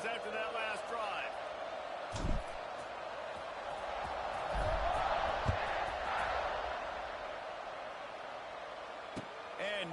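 A football stadium crowd roars steadily through a kickoff, a dense, loud wall of cheering that swells slightly midway, with a few sharp thuds and bursts standing out.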